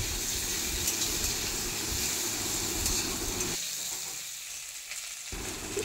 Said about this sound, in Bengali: প্রথমে দিয়ে দিলাম কুমড়োটাকে দিয়েও আরও 2-1 মিনিট নাড়াচাড়া করে